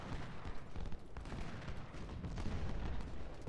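Musket volleys crackle in a Civil War strategy game, continuous rolling rifle fire with overlapping shots at moderate distance, fairly faint and steady, with no talking.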